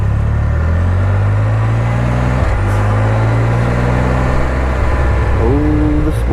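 A truck loaded with a bunch of Hondas backs in, its engine a steady mid-range drone throughout with a gear or pitch shift partway and a rising rev near the end, fairly close and loud with no talk.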